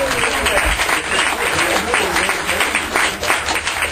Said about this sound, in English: give him another clap